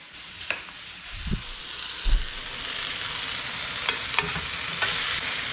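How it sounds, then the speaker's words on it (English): Chicken breasts sear in a pan of rendered fat and olive oil while being basted, giving a steady sizzle with soft spoon scrapes and a few low clunks as the oil is stirred and spooned, with no talking. "So, basting, just like I would do with steak. So a little bit of olive oil in there too. Just to up the volume a bit. So sizzling fat."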